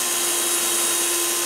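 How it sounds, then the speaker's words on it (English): Power drill boring screw holes through a jig while fitting toy box lid stays on a keyboard cabinet, a loud continuous whirring motor whine held steady throughout. "And all I have to do is just to do these few drills."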